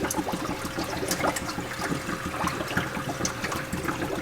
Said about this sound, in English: As the water's getting in, it's pushing the air out